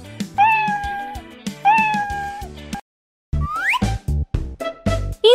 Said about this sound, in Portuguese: e o gato mia.